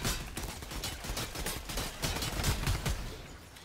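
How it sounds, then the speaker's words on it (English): Rapid bursts of automatic fire from a sentry turret in Fortnite ring out loud and close, a dense rattling stream that barely lets up over a few seconds. "There's a sentry here now."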